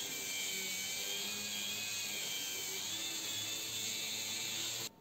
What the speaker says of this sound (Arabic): وبنبتدي نصنفر بالصاروخ كده طبعا صنفرة خشنة الأول وبعدين صنفرة ناعمة